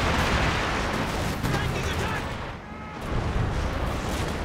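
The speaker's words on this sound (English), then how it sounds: "heavy artillery is going to come down over here" A rocket barrage artillery strike in Company of Heroes 2 makes a continuous roar of overlapping blasts and rumbling impacts, loud and dense, with a brief dip before the barrage swells again.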